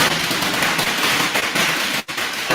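Fireworks on bonfire night crackle and pop in a dense, continuous barrage of rapid bangs, loud and close, with a brief gap near the end before the crackling resumes.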